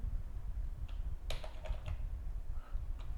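A few quick keystrokes on a computer keyboard, clustered in a short burst over a low background hum, with no talk.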